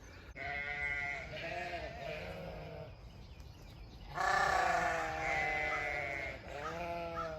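Several sheep bleat loudly and repeatedly, overlapping calls close by with short pauses between bursts.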